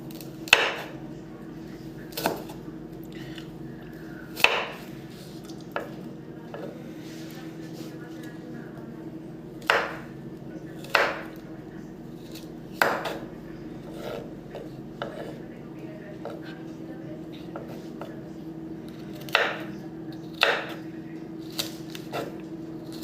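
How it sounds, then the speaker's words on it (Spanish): Knife chopping carrot into fine brunoise dice on a cutting board: sharp, spaced taps at an irregular pace, fairly close, over a steady low background hum, with no talking. "El siguiente corte que vamos a realizar es el corte brunoise en zanahoria y pimiento."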